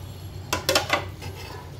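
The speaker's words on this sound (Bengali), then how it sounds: "এখন আমি এই সসগুলোতে এই উইংসগুলো দিয়ে দিই।" Chicken wings drop into a bowl of sauces, giving a brief cluster of three or four close clinks and knocks against the bowl over a low background hum.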